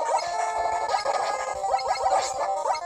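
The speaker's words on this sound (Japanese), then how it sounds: "イースのボス戦の曲じゃないですか。" NES-style chiptune boss battle music borrowed from Ys plays in a Mega Man 2 hack (Glayzone), a busy, continuous melody with quick, repeating note runs and no voices.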